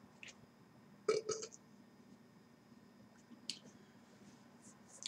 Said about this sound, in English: Thanks for joining me on that burp.